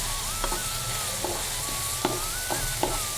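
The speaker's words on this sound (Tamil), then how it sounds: "இது கொஞ்சம் நல்லா வதங்கட்டும்." Chopped onions sauté in a hot pan for a Tamil mealmaker puttu recipe. A steady close sizzle hisses throughout, punctuated by a few soft clinks of a spoon stirring.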